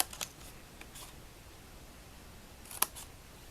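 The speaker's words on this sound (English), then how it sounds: "We're going to cut away these 2 little end tabs." Scissors cutting away small paper end tabs on a craft bubble box: a few faint, quick snips with quiet pauses between.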